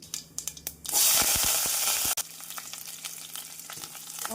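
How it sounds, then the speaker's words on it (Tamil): Hot oil crackles and sizzles loudly as mustard seeds, urad dal and cumin spit and pop, a burst of dense frying that settles into scattered sharp snaps. "இப்பொழுது கடுகு உளுந்து ஜீரகம் போடலாம் நாம் கடுகு பொரியவும்"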